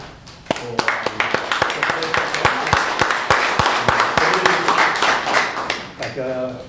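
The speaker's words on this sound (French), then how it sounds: "je tiens une bonne main d'applaudissement à la ville" Applause for the city at a Cap-Santé town council meeting, a burst of scattered hand claps from a small crowd, fairly close, lasting several seconds before fading, with voices talking over it.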